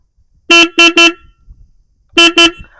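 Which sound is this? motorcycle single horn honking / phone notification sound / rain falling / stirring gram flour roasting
motorcycle single horn honking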